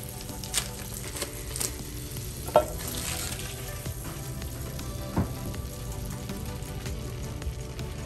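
Unsalted butter, eight tablespoons, sizzling as it melts in a pan for a roux, a steady soft crackle with a few sharper pops, close and alone.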